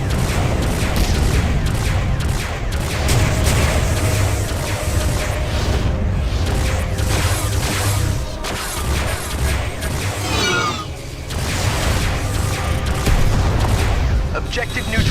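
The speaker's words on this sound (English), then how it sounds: "That is a shit ton of bombs." Continuous, dense barrage of explosions and gunfire from bombs detonating during a FreeSpace 2 space combat battle, loud and sustained throughout with overlapping booms and game effects.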